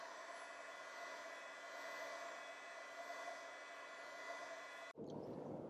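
A heat gun warms vinyl wrap over the side badge of a Rivian during a Darkout Package wrap job. It gives a loud, steady, close blowing roar with a faint whine, briefly cutting out near the end before resuming.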